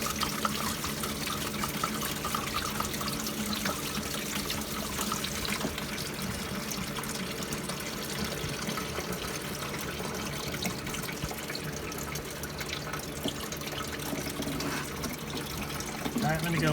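Coolant spills and trickles from a Porsche Boxster 986 engine during a water pump and thermostat change, a steady wet dribble and splash running continuously beneath shop background noise.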